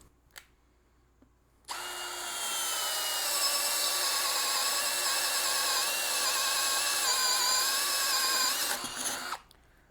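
A Greenworks 24V brushless drill on its lowest speed bores a 3/4 inch spade bit through wood with one long, loud, steady whine lasting about eight seconds, its pitch sagging slightly under load before cutting off.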